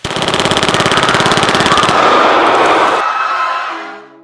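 Rapid bursts of loud gunfire, like automatic weapon fire, at a gas station in Beverly Grove, rattling for a few seconds before trailing off into a ringing decay.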